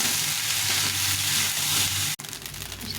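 Egg rice with garlic and onion is stir-fried in a pan, giving a loud, close, hissing sizzle that cuts off abruptly for a moment before resuming.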